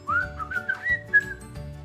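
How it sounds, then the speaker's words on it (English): A bright, tuneful whistled melody rises and glides through several notes over a soft musical backing. "And that hook in there with the whistle."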